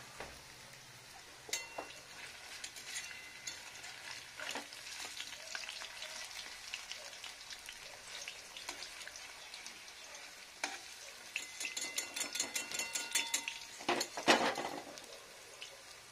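Vegetarian beetroot fritters with potato, coriander leaves, capsicum and green chilli fry in oil and are slowly turned, making a steady, fairly soft sizzle with occasional utensil clinks that grow busier toward the end.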